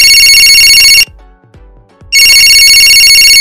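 A telephone ringtone, a loud bright electronic tone that plays steadily, breaks off for about a second, then resumes just as loud.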